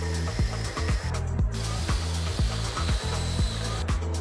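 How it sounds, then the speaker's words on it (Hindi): Groove being cut into a threaded rod for a screw in a metal workshop, a steady buzzing machine drone with repeated rhythmic low thumps and scraping strokes, close and continuous without voices. "स्क्रू के लिए वो एक थ्रेड वाली रॉड लेकर साइड में एक ग्रूव काट रहे हैं।"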